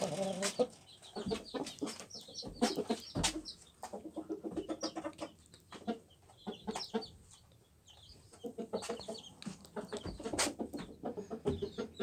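Roosters and large chicks clucking and calling in an irregular, fairly close chorus of short bursts, with a few wing flaps and no talk.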